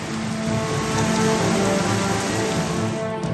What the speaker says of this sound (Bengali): আকাশের মুখ ভার কোথাও ঝেপে বৃষ্টি কোথাও ঝিরঝিরে